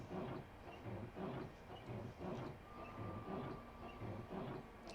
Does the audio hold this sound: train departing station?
yes